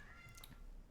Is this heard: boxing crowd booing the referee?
no